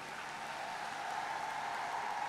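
Crowd applause for Chief Minister Naveen at a public event in Kalahandi marking the launch of the Lakshmi bus service: a steady, dense wash of clapping that holds at an even level throughout.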